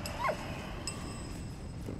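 A dog in the Valiant Hearts video game gives a short whimpering yip near the start, then stays quiet over a steady low background hum with faint tones.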